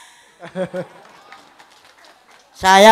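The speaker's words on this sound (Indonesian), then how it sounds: "Tepuk tangan." After a few spoken words and a quiet pause, a loud burst of applause and clapping breaks out from a village crowd at a regent's visit in Ngunut, Dander, Indonesia.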